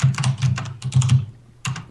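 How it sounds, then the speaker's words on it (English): Rapid clicky keystrokes on a mechanical keyboard during a Minecraft Survival Games session, in two quick bursts separated by a short pause, close and fairly loud with no talking. "It's a mechanical keyboard. It's meant to be clicky."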